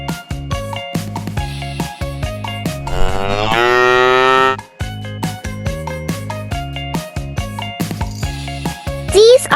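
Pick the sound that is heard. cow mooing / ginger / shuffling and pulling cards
cow mooing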